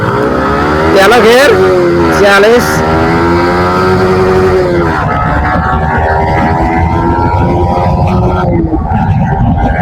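Yamaha R15 V4 and R15M motorcycles in a 300-metre race rev hard and close, engines climbing in pitch through several quick gear shifts before settling into a steady high drone, with a voice speaking over the start.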